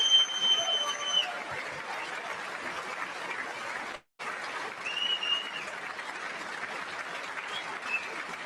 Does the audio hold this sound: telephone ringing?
no